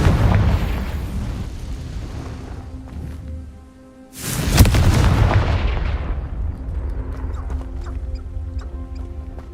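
In the video game Hogwarts Legacy, a Confringo spell explosion bursts loudly and sharply midway through, over a steady rumbling game soundscape that carries on before and after the blast.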